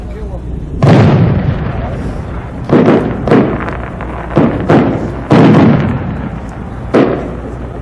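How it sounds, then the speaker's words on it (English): A 12-inch shell-of-shells firework, a large aerial shell packed with many small shells, bursts in a series of loud, sharp booms with crackling decay between them, about six heavy reports spread unevenly over several seconds. "The next one is a 12-inch shell of shells."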